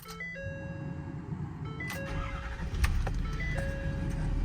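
A 2016 Ford F550 extended-cab 4x4 diesel truck runs with a steady, close low rumble. Brief higher tones chime over it at intervals, and there is no talk.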